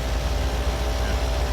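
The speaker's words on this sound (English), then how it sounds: "what you're hearing right now is the air compressor for the suspension" An air compressor for the air suspension of a 1959 Ford Galaxie runs with a steady, close, droning hum that holds level throughout without pauses.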